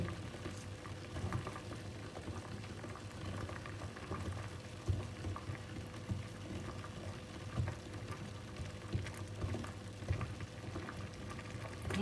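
A small pot of fish entrails (tai pla) simmers at a steady boil, a soft continuous bubbling hiss with faint pops close by.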